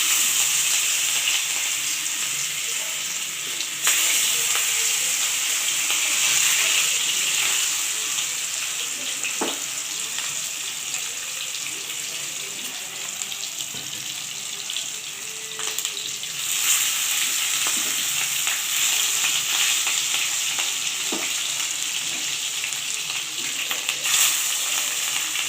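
Pieces of catla fish fry in hot mustard oil, giving a continuous loud sizzle with occasional pops and spatters that swell and fade a little as the pieces settle in the pan.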